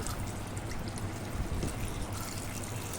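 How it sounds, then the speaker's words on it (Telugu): Water poured from a glass into lentils for cooking, about one and a half glasses, with a steady close splashing and trickling that runs for around three seconds with no voices. "ఒక గ్లాసున్నర వాటర్ అయితే వేస్తున్నాను"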